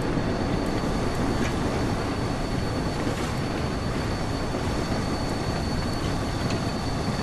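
Steam locomotive on the remastered West Somerset Railway in Train Sim World 4, heard as a loud, steady broadband rumble and roar that runs unbroken throughout, with no voices.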